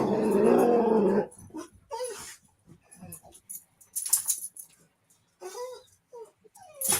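A dog growls in a low, rough, sustained burst at the start, then gives brief intermittent grumbles and moans among scattered rustling noises.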